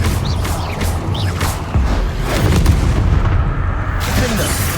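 Confringo explosive spell bursts in the Hogwarts Legacy video game, a series of booming blasts and crackling impacts over dense battle noise, with brief voices.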